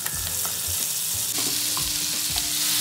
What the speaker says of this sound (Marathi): आता बटर छान असं विरघळून द्यायचं